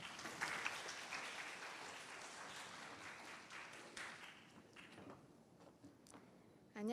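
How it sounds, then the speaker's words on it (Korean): Audience applause during an online academic webinar gives a soft, distant patter of clapping that thins out and fades over several seconds, ending in a couple of faint taps. "박수 부탁드리겠습니다."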